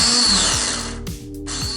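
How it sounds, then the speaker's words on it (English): A snowblower's electric starter whirs and strains but fails to start the engine, a loud, steady mechanical grinding with a brief dip partway through, heard alone up close. "And that is the sound of the electric start not working,"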